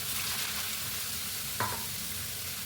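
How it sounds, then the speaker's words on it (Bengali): Beans, carrot, capsicum and peas fry in hot oil in a pan, a continuous loud sizzle with a brief stirring scrape partway through, no voices. "আমি তেল দিয়ে আমি বিনস, গাজর, ক্যাপসিকাম, কড়াইশুঁটি একেবারে ভেজে নেব"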